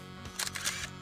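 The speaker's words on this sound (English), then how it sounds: "I click the shutter twice." A single-lens reflex camera fires its shutter in quick succession, two crisp mechanical clicks close to the microphone against a faint hum, with no voices.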